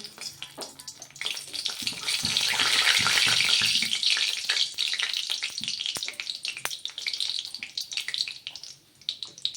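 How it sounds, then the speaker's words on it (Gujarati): Whole garam masala spices dropped into about four large spoonfuls of hot oil for panchratna dal, giving a loud bright sizzle that swells, then settles into a steady crackling fry with stirring noises. "આપણું તેલ ગરમ થઈ ગયું છે સૌપ્રથમ આખા ગરમ મસાલા એડ કરીશું"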